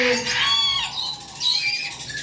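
A red-capped lory, a talking parrot, squawks loudly and close by in repeated harsh, shrill calls with short gaps, shown alongside lovebirds, cockatiels and conures.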